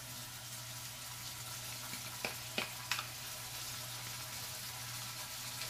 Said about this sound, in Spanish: Vamos a echarle la cebolla.